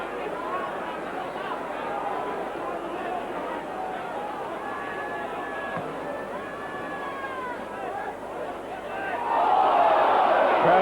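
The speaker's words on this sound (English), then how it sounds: "Crowd called ball on Rendell" A 1987 Australian football match grandstand crowd calling "ball" at a tackle, a loud roar of many voices rising over steady crowd noise, swelling sharply near the end, with shouts carrying across the ground.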